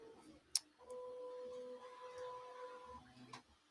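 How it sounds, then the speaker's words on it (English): A 3D printer starting up, its stepper motors whining in steady tones for about two seconds with a sharp click at the start and another near the end, close by and moderately quiet. "printer is just about to start."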